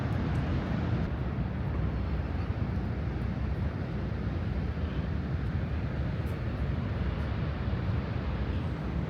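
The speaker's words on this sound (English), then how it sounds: "You can hear the roar of the Canadian Falls right in the background there." The Canadian Horseshoe Falls at Niagara, heard at night, make a continuous broadband roar of falling water. It stays steady and unbroken at an even level throughout, with no talking.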